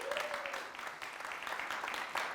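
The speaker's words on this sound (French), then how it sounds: "Merci de faire beaucoup d'applaudissements pour lui." A crowd claps steadily in a dense patter of applause, fairly loud, with a brief voice rising at the start.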